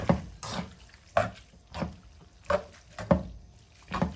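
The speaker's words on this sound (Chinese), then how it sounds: "然后用筷子快速的给它翻炒均匀，使面条都均匀的沾上汤汁儿。" Noodles tossed quickly with chopsticks through sauce in a pan, a series of soft wet clacks and slaps repeating every half second or so, close and moderately quiet.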